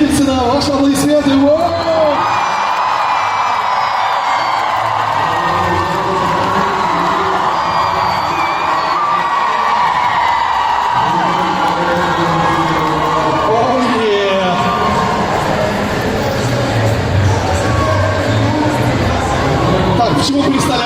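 A large Comic Con crowd roars and cheers steadily for the whole stretch to welcome actor Mads Mikkelsen onto the stage. Whoops and shouts rise over the dense, unbroken wall of noise, with a presenter's voice faintly mixed in.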